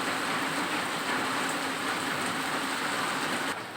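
Steady rain falls in a continuous, even hiss, close and fairly loud, with no talking over it.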